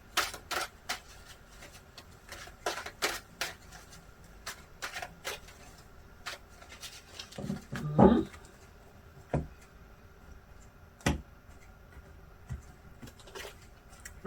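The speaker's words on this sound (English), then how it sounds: "Let's shuffle the cards a little bit for all of you Taurus." Tarot cards are shuffled and tapped close by in scattered light clicks and flicks, with a brief louder shuffle midway and quiet pauses between.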